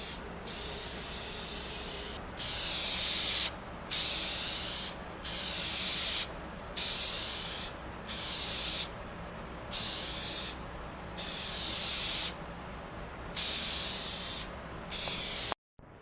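Spray gun bursts applying base coat to a Mazda Miata engine, about a dozen loud hissing passes separated by brief pauses, steady and close.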